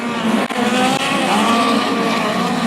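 Speedcars race on a clay track at Toowoomba, their engines roaring close and loud as they slide through the turns and brake hard, with tyres squealing over a constant engine drone.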